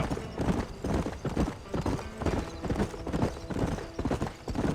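Horse hooves in Red Dead Redemption, a rapid rhythmic clip-clop of galloping that stays steady and close throughout, with no talk over it.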